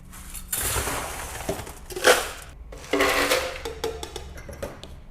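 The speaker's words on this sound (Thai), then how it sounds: "แล้วเราก็ใส่น้ำแข็ง 1 แก้วนะคะ" A glass of ice cubes clatters and rattles into an iMix blender jar in a few quick, close bursts, with no voices.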